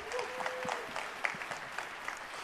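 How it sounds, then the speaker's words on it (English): Audience applause for presenters at a live product launch event, scattered clapping with distinct individual claps, fairly quiet and short, alongside a faint tonal sound near the start. "Let's give them one more round of applause."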